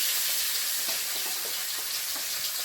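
Large pond fish frying in hot oil in a Sundarban home kitchen, a steady bright sizzle and crackle that stays constant and close, alone without talk.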